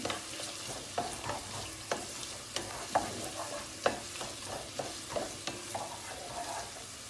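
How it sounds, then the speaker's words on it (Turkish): Carrots being stirred into frying onions in a sizzling pan, with a steady frying hiss and repeated scraping knocks of a utensil against the pan. "Şimdi onun içine havuçları atıyorum"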